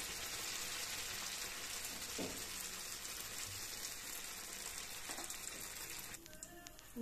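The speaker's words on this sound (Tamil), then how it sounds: "எண்ணெயில் ஊற்றினா ஒன்று ஒன்றா தான் ஊற்றி எடுக்க முடியும்." Appam batter sizzling steadily in hot oil in a pan, a continuous broadband frying crackle throughout, with a brief clink of utensils near the end.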